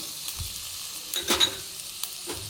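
Onion, green chili and tomato fry in hot oil in a pan as a quiet background sizzle, broken by a few brief spatula scrapes and a louder stir near the middle; no one speaks.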